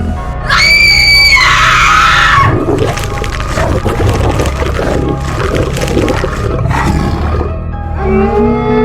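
A dramatized scene has a monstrous beast, the Beast of Gévaudan, attacking a woman: shrill, rising screams give way to a loud, sustained guttural roaring and snarling, close and intense throughout.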